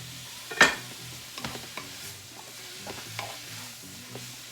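Green beans sautéing in butter in a pan, with a low steady sizzle broken by a sharp clatter at the start and several lighter stirring scrapes and taps, close up with no voices.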